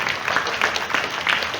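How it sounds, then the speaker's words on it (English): A school morning assembly audience applauds the Senior 2 students after their presentation: a brief, continuous burst of fairly loud clapping from many hands. "A big round of applause for them."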